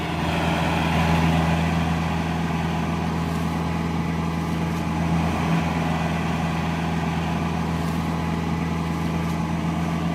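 A tractor engine labouring up a hill, a steady loud low drone with a constant hum, close and continuous with no talk.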